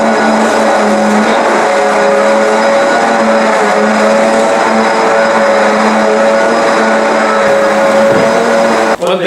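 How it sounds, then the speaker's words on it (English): A vacuum cleaner runs loud and steady in a funeral home, with a constant motor whine, cutting off abruptly near the end. "we do a whole lot of vacuuming"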